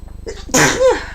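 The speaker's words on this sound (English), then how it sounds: "I'm about to sneeze, people." A single loud, close sneeze with a sharp burst and a short voiced tail, preceded by a quick intake of breath.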